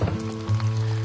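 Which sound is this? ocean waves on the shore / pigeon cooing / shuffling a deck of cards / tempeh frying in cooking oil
tempeh frying in cooking oil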